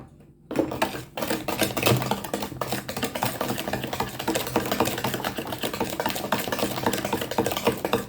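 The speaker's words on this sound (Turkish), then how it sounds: "Toz şekerle yumurtayı birazcık çırpacağım." Steady rapid clicking and scraping of a hand whisk against a bowl, beating eggs and sugar for a cake, continuous and close, with no talking.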